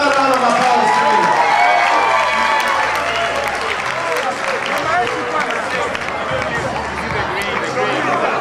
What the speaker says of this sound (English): Shall we give them another round of applause, please?